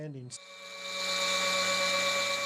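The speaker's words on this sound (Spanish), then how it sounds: "se extrae una muestra de polvo con un taladro" A brief voice-like sound, then a high steady drill whine starts and holds as it drills a powder sample from a stalagmite, growing a little louder and staying constant to the end.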